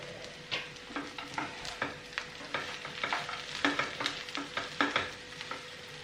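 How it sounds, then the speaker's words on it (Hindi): Potatoes frying in a pan, sizzling steadily close up while a utensil stirs them in repeated scraping strokes, with no talking. "थोड़ी देर के लिए हम इसे फ्राई करेंगे ताकि आलू जब फ्राई होते हैं तो उनमें काफ़ी अच्छा टेस्ट होता है।"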